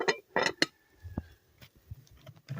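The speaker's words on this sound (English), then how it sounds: "Cover up back the pot, you know." A lid is set back onto a cooking pot of chicken stew, giving a few close metallic clanks and scrapes with a short ringing tone in between, fairly quiet against a still background.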